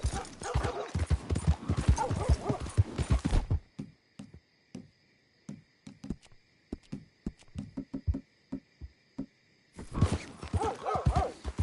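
Rhythmic hoofbeats of a horse galloping in Red Dead Redemption 2, loud and close, with a quieter stretch in the middle where the clopping continues alone before the full gallop returns.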